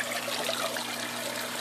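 An aquarium filter back in operation, its water trickling and dribbling in a steady, continuous flow at moderate level throughout, with no voices.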